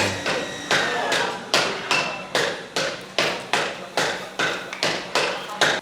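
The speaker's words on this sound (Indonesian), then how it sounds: "Setelah dilebarkan lagi mulai pakai palu pencu, pembuatan pencunya." A bronze gamelan gong being shaped with a pencu hammer, struck in a regular series of about fourteen loud, ringing metallic blows, each decaying before the next, close and alone.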